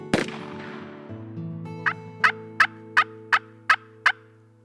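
A wild turkey in a fall hunting season setting near a cut cornfield: a sharp burst and ringing decay, then a rapid, evenly spaced series of seven gobbling pulses, clear and moderately loud over a steady low hum.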